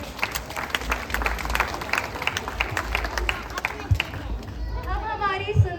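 A school-day audience claps for the children at an event, a burst of applause mixed with crowd chatter that fades into hubbub near the end, with voices talking throughout.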